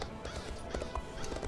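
Horse hooves clip-clop steadily in The Elder Scrolls Online, a close, even rhythm of several beats with a brief whinny mixed in, and no talk over it.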